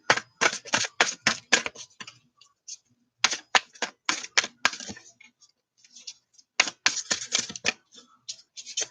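A deck of tarot cards is shuffled in rapid bursts of crisp riffling clicks, three clusters separated by short pauses, close and fairly quiet with no talking.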